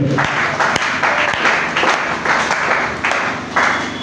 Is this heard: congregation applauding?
yes